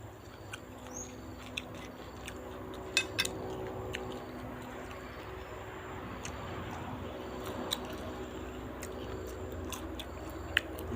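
Crispy fried beetles being chewed up close, a stream of small sharp crunches and crackles over a soft background murmur, fairly quiet and continuous.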